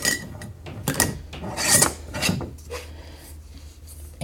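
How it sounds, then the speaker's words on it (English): Label being rubbed down onto a jar by hand, with rough scraping strokes that come in uneven bursts, close and fairly loud, with no talking. "I kind of give it a little bit of a little rub down around the edges, just like that"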